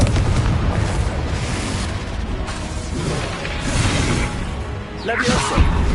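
A Confringo blast from Hogwarts Legacy, with deep booming explosions and whooshing bursts rolling through a loud, continuous battle din, with a sharper crack near the end.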